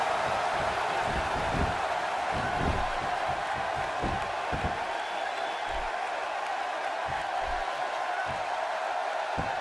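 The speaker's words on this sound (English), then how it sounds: "by the sound of this crowd, I think they're getting what they wanted" A virtual arena crowd at a WWE 2K16 wrestling match on Xbox One gives a steady, distant roar of cheering that fills the background evenly throughout.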